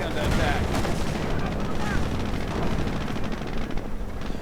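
Machine gun fire crackles in a WWII real-time strategy game battle, dense overlapping bursts and shots packed together under a loud, continuous rumble of combat.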